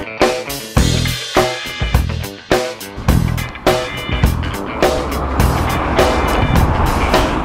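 A car, carrying passengers on a taxi ride, drives along the road with a steady, loud rumble of engine and road noise. Repeated sharp knocks and bumps punctuate the run, with no talk.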